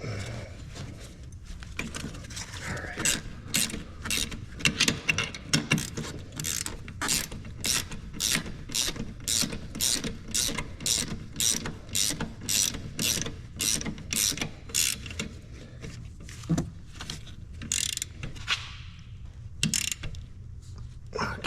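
A ratchet tightens bolts while a Brembo big brake kit with 6-piston and 4-piston calipers and 14-inch rotors is fitted to a Z31 300ZX: a long, steady run of quick ratcheting clicks in even bursts, close and clear.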